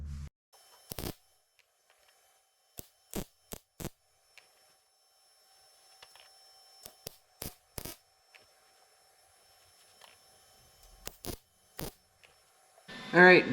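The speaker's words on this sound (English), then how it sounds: "So I'm going to start welding this in." A patch panel is tack-welded into a rusted front fender of a 1986 Pontiac Parisienne, with about a dozen short, crackling bursts scattered irregularly between near-silent pauses.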